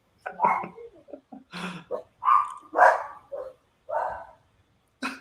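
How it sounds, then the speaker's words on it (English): Dogs bark in a run of loud, close, sharp yaps and woofs separated by short pauses, with no other sound between them. "My dogs are going nuts. They're annoyed."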